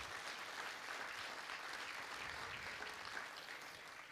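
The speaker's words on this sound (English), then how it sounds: "Let's give them all a big round of applause" Steady applause from a large crowd at a regional business event, even and sustained throughout, moderately distant with no voices over it.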